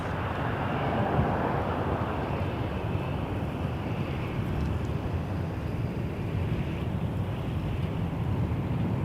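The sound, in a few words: WestJet Boeing 737-800 airliner at Toronto Pearson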